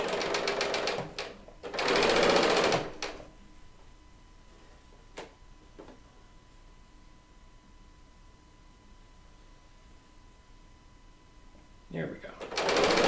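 A serger sews quilt top seams in two loud runs at the start, then falls quiet with faint clicks, and starts again briefly at the very end.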